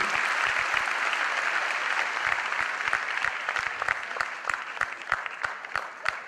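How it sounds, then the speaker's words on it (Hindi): Seminar audience bursts into loud, sustained applause, dense clapping that continues throughout with sharp individual claps standing out toward the end. "तो एक बार इन सबके लिए जोरदार तालियां।"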